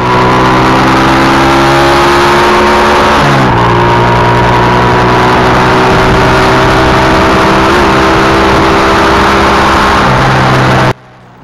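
A TMX 155 motorcycle fitted with a new clutch housing rides along a road, its engine droning steadily and loudly with a brief dip in pitch as the rider shifts gears, cutting off abruptly at the end.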